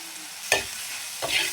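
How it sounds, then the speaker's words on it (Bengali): Chopped onion with tomato paste, coriander and chillies frying in a pan sizzles steadily, broken by two sharp stirring scrapes, close and moderately loud with no voices. "পেঁয়াজটাকে লাড়াচাড়া করে ভেজে নেব।"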